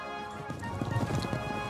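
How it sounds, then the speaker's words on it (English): Horses' hooves clip-clop in a steady trotting rhythm as riders travel on horseback toward Philadelphia, the beats fairly close and moderately loud, growing busier partway through with no talking over them. "We rode back to Philadelphia on horses from the stable of Abigail Adams."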